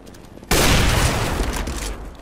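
A rapid burst of gunfire from a CS:GO match on de_dust2, a sudden loud crack followed by dense, booming volleys that fill the space for about a second and a half.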